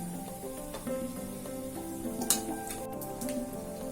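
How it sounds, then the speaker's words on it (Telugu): Instant jalebi frying in hot oil, a continuous close sizzle with bubbling crackle and a small clink partway through, no talking. "చూడండి, ఫ్రై అన్నాక ఎలా లేసి వస్తున్నాయో మన జిలేబీ."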